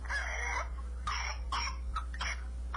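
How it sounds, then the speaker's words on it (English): A young child with whooping cough coughs in several harsh, separated bursts over a few seconds, fairly close and alone with no talking. "He was coughing and doing the whoop."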